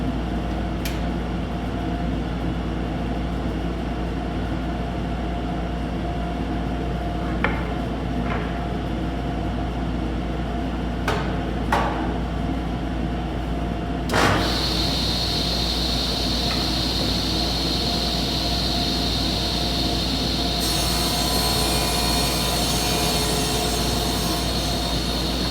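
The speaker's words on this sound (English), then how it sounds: "I'm going to just go ahead and set the machine up and make my cut." A table or rip saw runs steadily through a ripping cut along a wooden board, a loud constant machine drone with brief clicks, and its pitch shifts partway as the blade loads into the wood.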